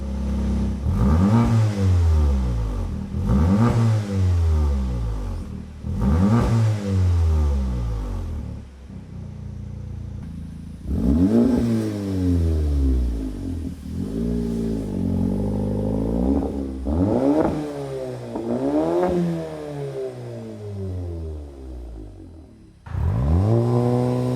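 A loud VW Golf R engine with an AWE SwitchPath exhaust, valves open, revs hard several times in a row, the exhaust roaring up and dropping back, then a long series of throaty rev bursts.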